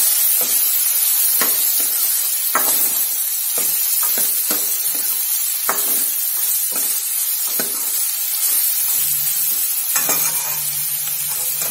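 Coriander sautés in hot oil in a pan, giving a constant close sizzle and hiss broken by sharp scraping strokes of stirring.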